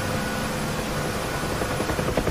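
A Huey helicopter in the DCS flight simulator, its rotor and turbine roaring as a dense, constant drone that fills the whole clip without pause, close and loud, with no talk over it.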